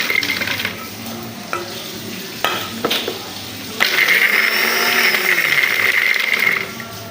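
A kitchen blender loaded with torn bread pieces, left without its lid, starts after a few clattering knocks of handling and then runs with a steady whirring grind for about three seconds before cutting off.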